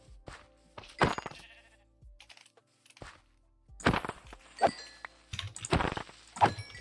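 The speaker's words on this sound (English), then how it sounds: "there's a sheep I can actually go take" Minecraft sheep bleating in several short, distinct cries spread across the moment, mixed with clicky keyboard-like tapping and game sounds, without any talking.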